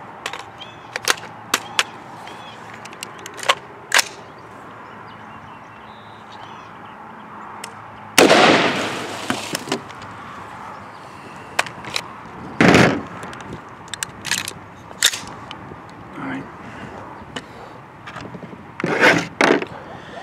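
Rifle shots with 62-grain green tip rounds are fired at a bucket of school books from 45 feet. A few sharp bangs stand out, spaced several seconds apart, with smaller clicks and knocks between them.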